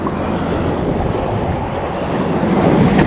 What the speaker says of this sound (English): man, these waves hit you hard